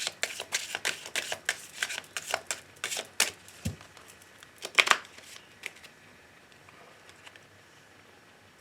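Oracle cards being shuffled for a reading: a run of quick, close papery riffles and flicks for several seconds, then a few isolated snaps before the sound fades to near quiet.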